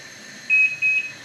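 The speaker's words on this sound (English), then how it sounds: "Oh, I was trying to put my timer on" Two short electronic beeps from a kitchen timer being set while eggs and leeks cook on the stove, clear and fairly close over a quiet room.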